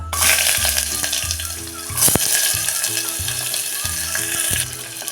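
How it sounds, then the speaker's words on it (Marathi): Chopped onion sautéing in hot oil with whole spices and a bay leaf for Muslim-style matar pulao gives a steady, fairly loud sizzling hiss, with a low repeating tonal pattern running underneath. "कांदा आपण थोडा वेळ परतून घेऊया"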